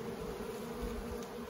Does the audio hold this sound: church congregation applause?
no